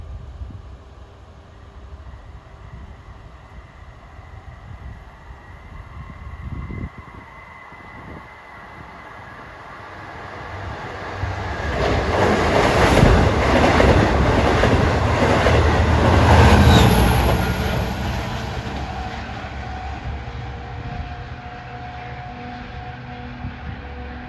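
A Long Island Rail Road train from Port Jefferson to Jamaica speeds past on triple track, its rumble building from a distance to a loud roaring peak with clattering wheels, then fading.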